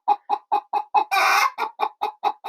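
Chickens cluck close by in a chicken coop in a steady, evenly spaced series of short calls, broken once by a longer, harsher squawk before the clucking resumes.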